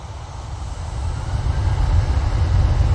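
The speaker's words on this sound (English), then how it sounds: "I can see over North Manchester we do have the TUI 787-9 Dreamliner coming in from Cancun." A TUI Boeing 787-9 Dreamliner inbound from Cancun approaches Manchester Airport, its deep jet rumble swelling gradually from a distant drone to a fuller roar, no talking.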